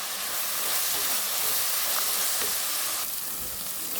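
Onions sautéing in a pan with ginger and a little salt produce a steady, close, hissing sizzle with faint stirring and no distinct voices.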